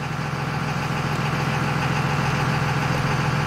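A 2000 Dodge Ram pickup with a 5.9L engine idles at a steady, close rumble, its low hum unbroken and even throughout, with no talking.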